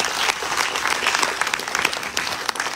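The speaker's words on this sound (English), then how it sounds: "Please give a round of applause to our Vyaas for tonight." Audience applause at a Ganesh Chaturthi festival celebration, a dense steady patter of many hands clapping at once, loud and continuous throughout with no talking over it.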